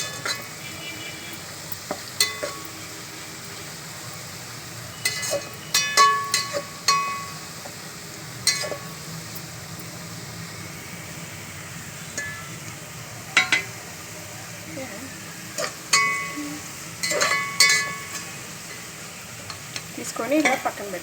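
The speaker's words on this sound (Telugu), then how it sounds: "ఇలా గోల్డెన్ బ్రౌన్ వచ్చేదాకా వేయించుకోవాలి." Onions being stirred and fried until golden brown for Hyderabadi chicken biryani: a steady sizzle runs throughout, with intermittent scraping and clinking stirs of a utensil against the pan, close and moderately loud, no talking.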